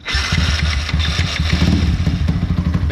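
A motorcycle engine with a leaking exhaust runs steadily at idle, a loud low throbbing rumble that continues throughout with no talking.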